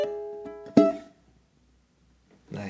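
A ukulele plays a phrase from a song: a held chord with a few soft plucks, then one sharp accented strum that decays into near silence before another sound starts at the end.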